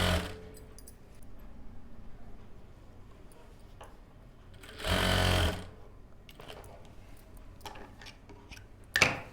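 A sewing machine stitches the slit of a kurti, giving one loud whirring burst of a second or so and a brief final spurt, with faint fabric handling and ticking between them.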